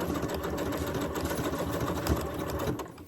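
A sewing machine runs continuously while stitching sample stitches into scrap fabric, a close, steady mechanical whir with rapid needle chatter and no talking.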